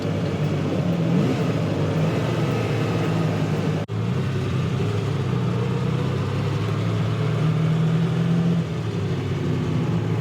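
A Ferrari 250 GT Lusso engine rumbles steadily at idle with a deep, growly tone, swelling slightly as it is revved, with one brief click partway through.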